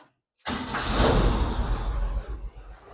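A 1970 GMC K3500 truck engine starts abruptly and settles into a steady, fairly close rumble at a slightly high idle, with a broad mechanical hum and no talking.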